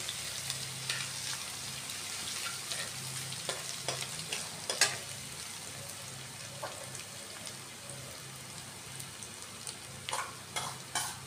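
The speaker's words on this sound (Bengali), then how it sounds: "দিয়ে দেবে রসুন কুচি। এরপর একটু নেড়ে ভেজে নেবে" Chopped garlic sizzles and crackles steadily in a hot pan, with scattered scrapes and taps from stirring and a low hum underneath, close and alone without talk.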